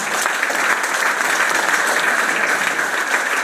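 An audience at a celebration in Kaithal bursts into loud, sustained applause, many hands clapping densely and evenly with no pauses.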